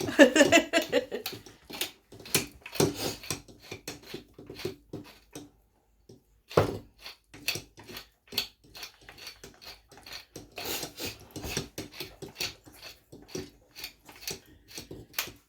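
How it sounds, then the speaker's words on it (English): Pepper being ground in a hand pepper mill for haggis, a steady run of short dry rasping, crunching grinds with brief pauses, close and fairly quiet with no talk. "I'll be grinding pepper for a little while"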